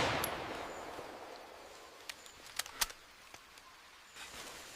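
Gunfire in a jungle battle: a few scattered sharp shots and cracks rise over a faint hissing background, mostly distant and sparse, with one louder report near the middle.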